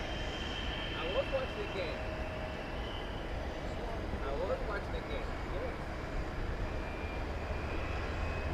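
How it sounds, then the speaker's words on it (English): A cargo aircraft at DFW Airport makes a steady, broad jet roar that stays fairly even and continuous throughout, heard from a distance. "Another super cargo master."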